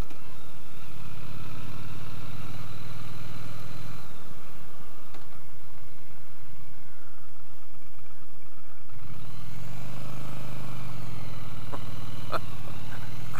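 A Triumph T100 motorcycle engine rumbles loudly up close, dropping back for a few seconds before revving up again with a deep, punchy throb.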